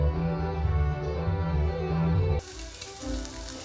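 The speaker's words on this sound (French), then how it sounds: "on va faire revenir nos lardons pour les faire griller" Lardons frying in a pan, with a steady crackling sizzle that turns sharper and brighter partway through, close and continuous with no talk.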